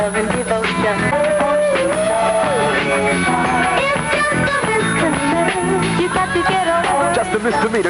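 A 1973 soul single with a lead singer over a full band, aired on AM radio in New York; continuous, loud and dense, with youthful lead vocals over the backing.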